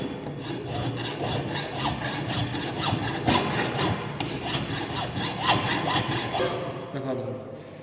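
Rhythmic back-and-forth rasping strokes of a hand file working a metal square fitting job in a fitting shop, repeated steadily, with some talk faintly underneath.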